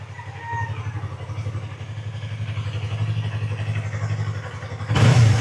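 A Yamaha YZF motorcycle fitted with a slip-on exhaust idles with a close, pulsing engine throb that builds steadily, then rises into a sharp, loud rev at the end.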